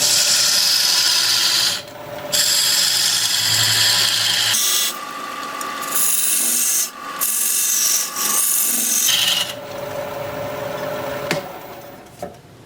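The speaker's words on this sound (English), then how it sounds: "Now I'm going to use this diamond point tool to put a dovetail on the side of the tenon." A maple burl bowl being shaped on a wood lathe with a diamond point tool as a dovetail is cut on the tenon, giving a loud, steady rasping scrape in several bursts with brief pauses, close up and with no talk.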